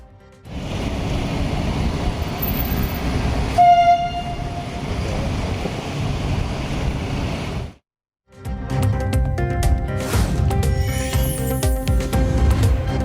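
A metro train runs on a short two-kilometre trip with a steady, loud rumble and rattle. It sounds one brief horn blast, then the noise drops out for a moment and the rolling clatter resumes.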